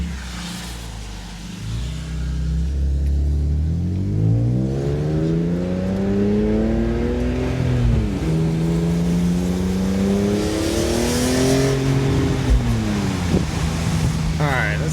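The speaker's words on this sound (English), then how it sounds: "It's a Billy Boat exhaust." A BMW E36 fitted with a Billy Boat aftermarket exhaust revs repeatedly in a parking lot, the engine note climbing and dropping in loud, close, sustained sweeps.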